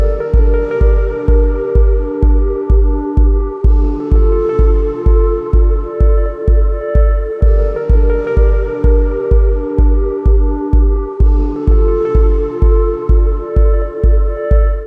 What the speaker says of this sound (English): just use some general ambient textures on top of some kick drum, you can just call it ambient techno